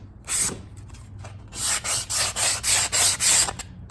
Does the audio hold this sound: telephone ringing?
no